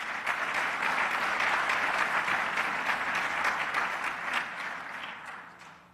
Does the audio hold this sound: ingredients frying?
no